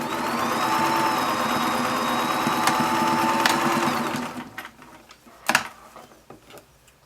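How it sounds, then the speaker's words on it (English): A sewing machine stitches closed the open section of a fabric scrunchie, running with a loud steady whirring drone for about four seconds, then stopping, followed by a few quieter clicks and handling knocks. "I'm just going to sew that. You only wanna sew over the part that is open."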